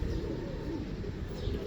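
Breeding pigeons kept by a fancier give soft, low cooing that rolls on steadily over a constant background hum, with no talk.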